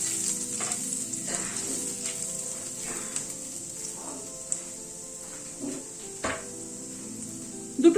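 Chopped garlic, five or six cloves, sizzles steadily in hot oil in a pan, a bright continuous hiss with a few faint stirring scrapes and a soft clink near the end.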